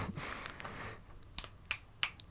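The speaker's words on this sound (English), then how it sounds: "Can you hear me clap?" A few sharp hand claps, three crisp separate claps after a moment of quiet room noise, close and fairly loud with no talking.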